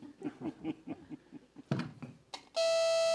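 An alarm bursts on suddenly after a stretch of people talking, a loud continuous high electronic tone that holds steady to the end.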